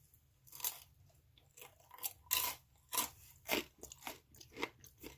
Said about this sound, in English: I don't know if you can hear that crunch.